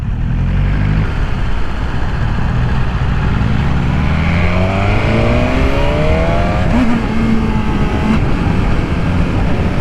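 A 2020 BMW S1000RR sport motorcycle engine revs hard and climbs through the gears, a loud, close, continuous roar with rising pitch sweeps and a shift break, heard from onboard with steady wind rush.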